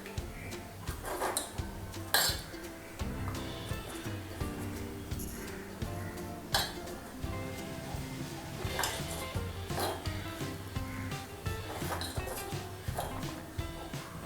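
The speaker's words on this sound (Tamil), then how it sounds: "இப்போ இதை வந்து நல்லா மிக்ஸ் பண்ணி விட்டுறணும். அந்த ஜீராவோடு சேர்த்து நல்லா மிக்ஸ் பண்ணிடணும்." Rose petals get stirred into hot sugar syrup in a pot for homemade rose milk essence, a spoon clinking and scraping against metal in irregular strokes over a soft bubbling sizzle.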